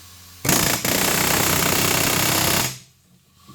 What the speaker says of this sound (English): It's a 3-foot air chisel on an air hammer.